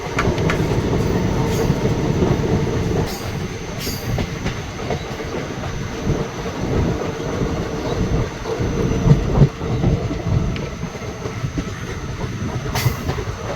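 Maa Tara Express train running near Sainthia Junction after crossing the Mayurakshi river, a loud continuous rumble and rattle of wheels on track heard from on board, with faint squeals and clicks.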